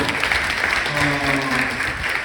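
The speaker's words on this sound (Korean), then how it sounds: "박수 한번 보내주세요" Audience applause at a book talk, a dense steady patter of many hands clapping indoors for about two seconds, fairly loud and even throughout.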